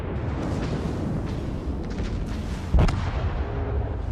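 Heavy naval shell fire slams into a ship in World of Warships, a sharp booming impact near the end rising out of a steady rumble of engine and battle noise, with scattered lighter blasts before it.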